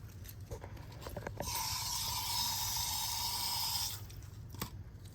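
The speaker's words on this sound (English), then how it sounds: "let's rinse out the tips." Tips of plant cuttings rinsed under running tap water, a steady splashing hiss of moderate level lasting a few seconds, with a faint hum in the background.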